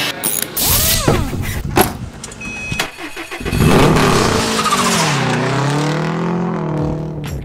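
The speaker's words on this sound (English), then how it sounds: "Testing the car for the new Formula Drift season" A Scion FR-S Formula Drift car being tested on a track revs hard with rising and falling engine pitch, passing close and loud with gear changes, then a sustained wavering drone as it drifts.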